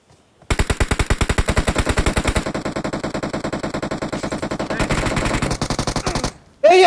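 Rapid automatic gunfire in the PUBG Mobile shooter, a long loud sustained burst of evenly spaced shots that keeps up to the end, with a sharp noise right at the close.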